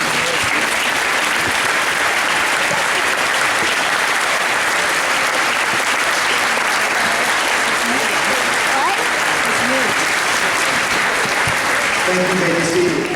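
Sustained, loud applause from a large audience for standing parents and family members at a high school National Signing Day ceremony, an unbroken roar of clapping with a few voices showing through near the end.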